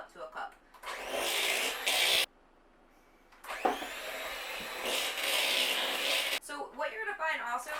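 An electric beater whirs steadily through a stiff mix of peanut butter, vanilla and powdered sugar for vegan buckeyes, stopping briefly and then starting again, loud and close.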